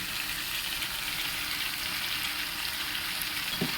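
Fish curry sizzling in a pan as it is stirred, a steady bright frying hiss with faint scraping, close and continuous, ending with a small clink near the end.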